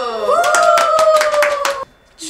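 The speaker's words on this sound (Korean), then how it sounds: "박수!" A group of university media and performance arts students clap in a quick, steady rhythm over a sustained held tone, about a dozen sharp claps, before the sound drops away into near silence.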